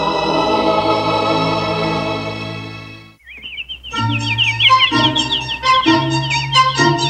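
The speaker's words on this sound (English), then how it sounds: "A bird." A cartoon bird in a children's English-learning animation chirps in quick, high, repeated tweets after a musical passage fades out, the calls coming in close, bright bursts over light background music.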